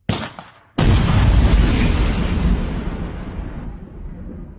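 A missile explodes and destroys an enemy tank: a sudden heavy boom after a short quiet lead-in, then a long rumbling roar that slowly fades over several seconds, loud and alone with no talking.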